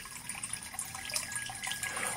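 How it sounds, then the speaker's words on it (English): Water poured from a pitcher makes a steady, close splashing and trickling that runs for about two seconds, with no talking. "Lift that pitcher of that water. Simply pour some water"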